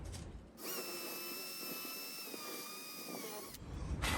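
Power drill boring a pilot hole through a wooden board for a homemade ice fishing rod holder: one steady, close, high whining run of about three seconds, starting and stopping abruptly, no talking.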